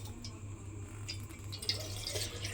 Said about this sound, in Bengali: এইবারে আমি এর মধ্যে দিয়ে দেব জল।